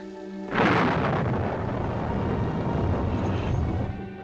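A deep roll of thunder from a thunderstorm in a 1946 film set in the Catskills breaks in suddenly and rumbles on steadily for several seconds, loud and heavy, with no voices over it.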